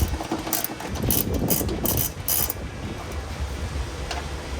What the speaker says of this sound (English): 10 millimeter deep socket. Take these 3 studs out.